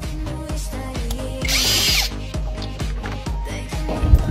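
Power drill spinning out hex socket screws from a motorcycle engine casing, a loud close whirring burst with rhythmic pulsing and a brief higher-pitched squeal midway, heard alone.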